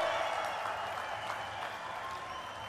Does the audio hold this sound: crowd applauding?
yes